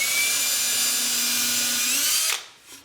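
Power drill driving a 1.25-inch drywall screw into wood for a birdhouse, a steady high whine for about two seconds that drops off sharply, followed by a brief faint tail.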